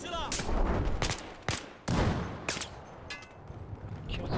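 Gunfire in Battlefield 4 multiplayer, with buildings being destroyed, comes as a string of loud, sharp shots at irregular intervals, some near and some farther off, over a constant battlefield rumble.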